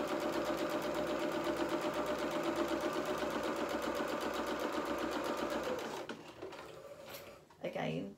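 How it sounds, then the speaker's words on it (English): A sewing machine hums and clatters rapidly and steadily up close as it runs a second row of stitches across fabric for a doll's angel dress, then slows and stops near the end. "on the same piece of fabric, you do a second row of stitches"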